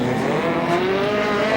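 A speedcar races around a speedway track at Speedway Park in Adelaide, South Australia, its engine roaring loud and steady with a slowly rising pitch, close by and without pause.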